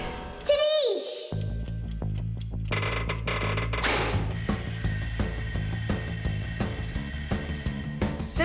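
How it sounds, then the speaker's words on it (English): A cartoon alarm clock bell rings in a long continuous metallic trill that starts partway through and keeps going, following a springy boing, rattling clatter and a voice. "I think I can hear my alarm ringing."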